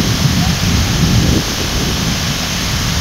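Anandagiri (Thatiguda) waterfall sends a large volume of water crashing down, a loud, constant, dense roar with heavy low rumble, heard up close and unbroken throughout.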